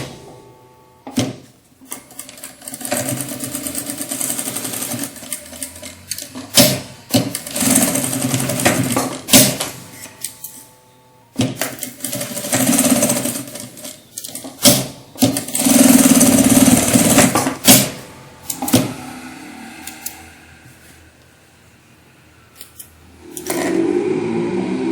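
A sewing machine stitches around the edge of a fabric wallet piece in close, loud bursts of rapid whirring, stopping and starting between runs, with quiet handling noise in the gaps.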